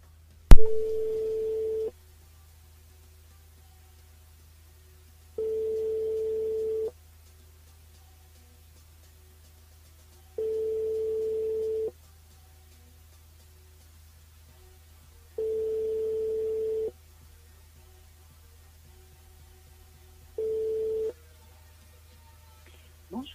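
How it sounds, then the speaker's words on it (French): Telephone call ringing out through a French radio station's switchboard: five long, steady ring tones evenly spaced about five seconds apart, after a sharp click at the start, with no talking. "on va rappeler Manuela sur le standard"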